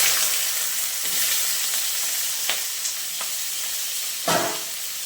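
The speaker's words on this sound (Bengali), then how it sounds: "আলু ভাজার মতো করে কেটে নিয়েছি। এবার কড়াইতে দিয়ে দেবো" Sliced potatoes fry in hot oil in a kadai, giving a steady close sizzle and hiss, broken by a few sharp stirring scrapes and spatters, with no talking.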